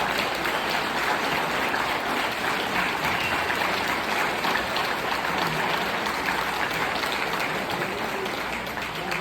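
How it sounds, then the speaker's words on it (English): A dense, steady wash of audience applause at a general meeting, loud and sustained for the whole stretch with no pauses, fading only slightly at the very end. "Let's give that ball a round of applause"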